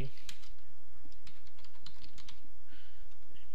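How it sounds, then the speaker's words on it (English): Typing on a computer keyboard, with rapid irregular key clicks over a steady background hum, close and moderately loud, no speech. "All you gotta do is type in what you need to be doing."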